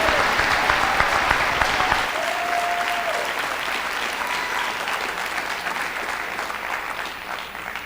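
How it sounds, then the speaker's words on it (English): Audience at a high school senior honors program applauding award recipients, loud sustained clapping from a large crowd that carries on throughout and tapers slightly at the end. "joining me in one more round of applause for these individuals for receiving these awards"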